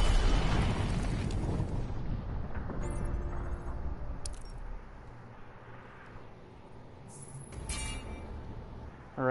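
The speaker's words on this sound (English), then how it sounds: "Finish him off with the rockets." Rocket blasts in the Injustice fighting game as Black Manta finishes off his opponent: a loud rumbling explosion at the start that fades into a long decaying roar, with scattered metallic game effects afterward.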